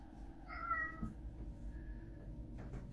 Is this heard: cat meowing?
yes